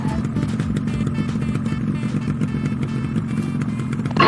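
A motorcycle engine running as it runs out of petrol, a close, steady low rumble with rattling clatter that continues to the end, rising slightly at the very end.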